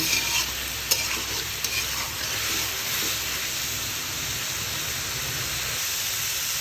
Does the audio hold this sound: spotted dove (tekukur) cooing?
no